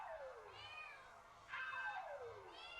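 Cat meowing three times in long, drawn-out falling calls, close and clear over a faint, quiet background, inside a party video game.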